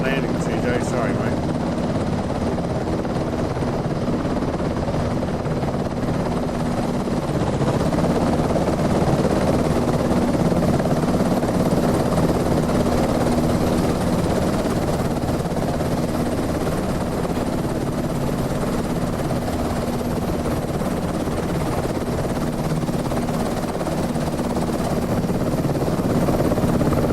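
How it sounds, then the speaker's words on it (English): Continuous heavy rotor drone of helicopters in Microsoft Flight Simulator 2024, steady and loud throughout with a low hum, touring the Great Ocean Road in Victoria. "God, are those helicopters loud?"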